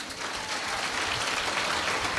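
An audience at a religious assembly applauds in a dense, steady burst of clapping that fills the whole moment at a fairly even level.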